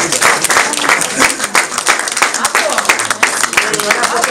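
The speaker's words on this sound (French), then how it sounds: "je vous propose un tonnerre d'applaudissements pour les futurs projets de Nadine" An audience applauds at a book launch held at Fouquet's. The clapping is dense and steady throughout, with crowd voices mixed in.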